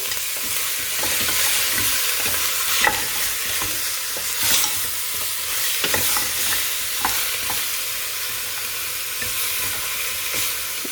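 Goat meat browns in a hot pan for a South Indian curry, giving a steady close sizzle with occasional scraping strokes and clicks from stirring, and no talking.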